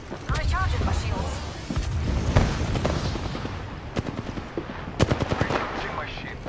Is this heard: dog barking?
no